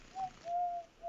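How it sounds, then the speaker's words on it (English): A pigeon coos softly in three drawn-out, hollow notes, the middle one longest, against a quiet background. "It is a pigeon"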